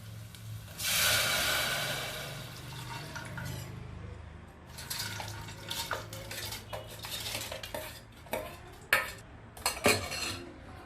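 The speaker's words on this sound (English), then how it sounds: "Now I add all the rice." Rice is added to a pot with a burst of pouring and hissing, followed by a metal spoon stirring and scraping in irregular clinks and knocks, close and without talk.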